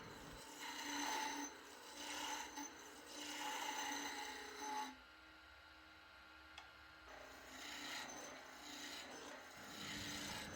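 Skew chisel cutting a wooden spurtle spinning on a lathe, giving a continuous rasping hiss that swells and fades in long passes, with a brief quieter gap midway and no voices.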